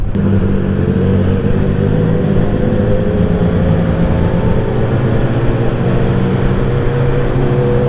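A BMW S1000XR motorcycle engine drones steadily while riding, a low rumbling hum that holds a constant, loud pitch with no breaks.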